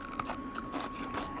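Someone bites and chews crunchy green beans tossed with almonds, a series of close, crisp crunches and wet chewing in quick irregular succession, with no talking.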